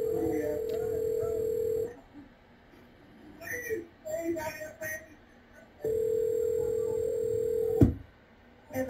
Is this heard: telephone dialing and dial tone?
yes